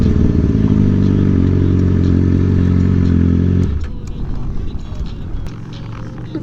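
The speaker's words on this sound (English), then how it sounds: "nice Aprilia Dorsenduro" An Aprilia Dorsoduro motorcycle engine runs with a loud, steady throb that drops off abruptly partway through, leaving quieter clatter and background noise behind.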